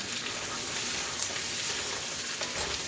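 Potatoes stir-frying in a wok for a steak-and-potatoes dinner, giving a steady close sizzle and crackle with faint scraping of the stirring, continuous and without talk.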